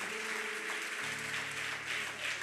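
Congregation applauding during a church service, a steady dense wash of clapping at moderate level with a low sustained tone beneath it.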